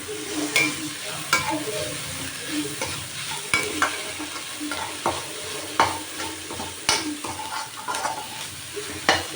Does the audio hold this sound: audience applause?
no